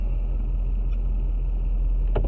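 A Nissan Titan XD truck with its emissions system deleted and a no-emissions tune drives along with a deep, steady engine rumble, close and loud throughout, ending in a brief sharper rattle.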